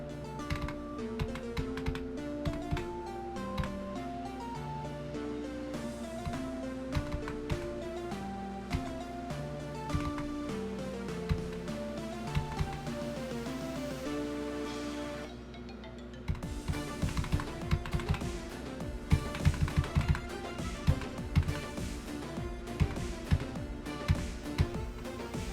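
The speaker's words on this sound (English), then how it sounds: "Do you guys like the sound of my keyboard?" Rapid typing on a computer keyboard produces dense, continuous clicky keystrokes for the whole stretch, close and clear, with a brief lull before the clacking resumes more heavily, set against background music and no talking.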